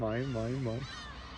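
A voice imitates a seagull with three quick, wavering, honking cries, close and loud, then fades out.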